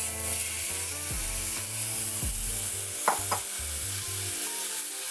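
Strawberries being pressed and muddled in a warm saucepan, steady low stirring and squelching with a couple of brief sharp clicks of utensil on pan, close and fairly loud, no talking.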